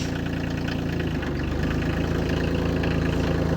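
A farm tractor engine runs steadily and loudly close by, its low mechanical drone holding a constant rumble with a slight rise in intensity partway through as the throttle opens.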